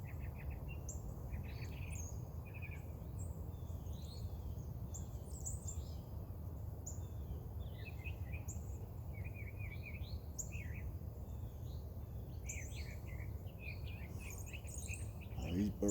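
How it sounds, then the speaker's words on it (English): Small birds chirp and tweet steadily outdoors in the morning, waiting to be fed, their calls overlapping at moderate distance over a constant low background rumble, with faint insect buzzing. "Oh, these birds are still waiting on me."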